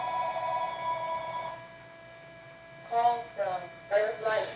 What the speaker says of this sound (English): I didn't expect this phone call